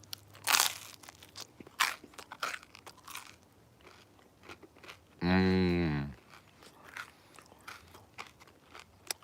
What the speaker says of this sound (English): time for another bite of the avocado bacon toast